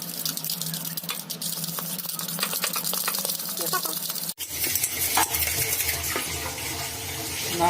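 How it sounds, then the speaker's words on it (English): Sugar whisked into sponge cake batter in a bowl gives a quick, rapid scraping and tapping of the whisk that continues throughout, with a short pause and a bump partway, while someone talks. "whisk it properly until the sugar is dissolved in it"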